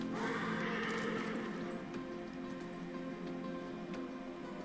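A horse whinnies once near the start in Darksiders Genesis, a rising neigh that fades, followed by soft ticking and faint hoof clops under a steady ambient bed.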